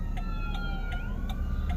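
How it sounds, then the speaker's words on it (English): An ambulance siren wails in the distance over low traffic rumble, its pitch sweeping up and down steadily with a faint repeating high chirp. "Oh, the ambulance."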